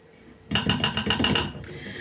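A spoon vigorously stirs grated apple mixture for an apple pie in a bowl, starting after a quiet moment with quick, rhythmic clinks and scrapes against the bowl, close and bright, with no talking.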